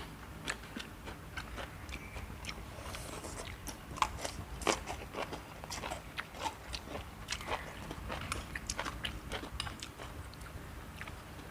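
Crunchy yardlong beans eaten with noodles give close, repeated bites and crisp chewing crunches in an uneven rhythm, fairly quiet throughout.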